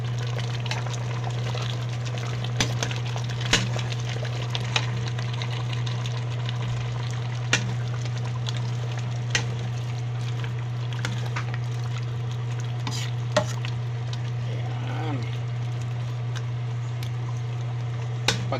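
A pot of beef kare-kare broth bubbles steadily on the stove with a low constant burner hum, while a utensil scrapes and clinks against the pot in scattered taps as it is stirred.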